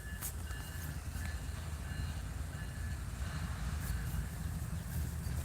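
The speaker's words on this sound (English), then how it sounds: "they're gonna pull the whole train forward and back down the siding" A train in a rail yard at Mount Hope, West Virginia, pulling forward to back down a siding, heard trackside as a steady rumbling roar of cars rolling with faint metallic squeals.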